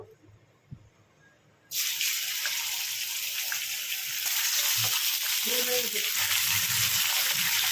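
Chicken pieces dropped into hot oil burst into a loud, sustained sizzle and crackle that swells slightly as it goes, after a quieter moment with faint kitchen clatter.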